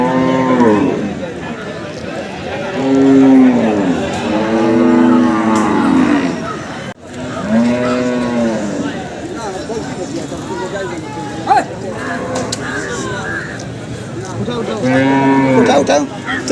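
Water buffaloes low repeatedly at a Bihar livestock market, several loud, drawn-out moos rising and falling close by, with people talking and crowd noise in between.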